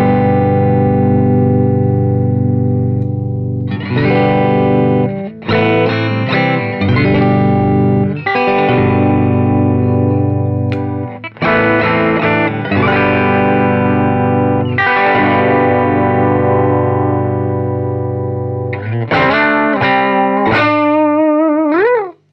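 Slick SL 60 doublecut electric guitar played loud through effects, with strummed chords and short riffs changing tone as it steps through pickup positions, brief gaps between switches and a wavering bent note at the end.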